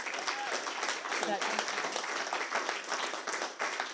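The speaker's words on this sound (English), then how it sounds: "So if you want to give her a round of applause." Steady audience applause following a Christmas archaeology lecture, dense, even clapping from a seated crowd in a hall, sustained throughout at moderate loudness.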